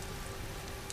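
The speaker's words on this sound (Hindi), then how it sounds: "ये बारिश रात भर रुकेगी नहीं।" Heavy rain falls at night in a steady, dense hiss of drops on surfaces, continuous and even throughout the short stretch, with no voices.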